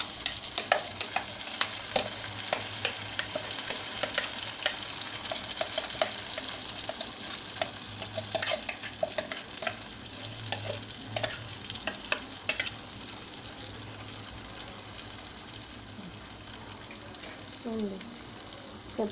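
Haleem mixture stirred in a pan on a stove over low heat, giving a steady sizzle and frying hiss with scraping strokes of a spoon throughout, close and continuous.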